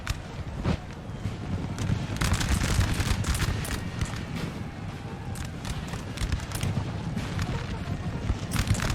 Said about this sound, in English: Let's see this artillery maybe can get some more kills before they break.